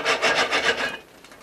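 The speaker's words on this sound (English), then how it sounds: "Now we'll give it a shake." A pan of oiled popcorn shaken over a fire gives a rhythmic series of close, loud scraping rattles, about five strokes in a row, then a fainter trailing clatter.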